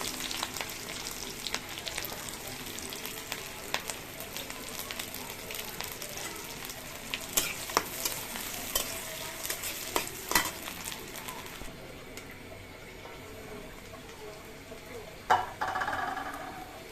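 Onion fries in a pan with a steady, busy sizzle and scattered pops, the hiss thinning toward the end before a final clatter of stirring.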